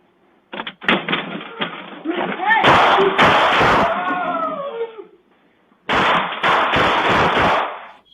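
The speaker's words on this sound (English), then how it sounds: "Dozens of gunshots ring out at a Rockford home" Rapid bursts of sharp gunfire crack out at a home in Rockford in two long volleys separated by a brief pause, loud and dense, with muffled voices mixed in.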